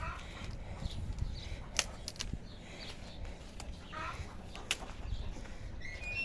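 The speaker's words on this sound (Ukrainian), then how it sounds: "курка квохче" A hen clucks in short bursts outdoors, fairly faint, with some background noise and light rustling around.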